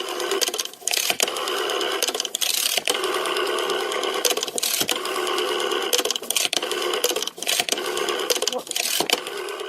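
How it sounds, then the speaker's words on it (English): A rotary telephone dial being turned, rapid mechanical clicking and whirring in repeated bursts, each dial return separated by brief pauses, close and fairly loud. "Rotary, one of those phones that Yeah. the rotary phone."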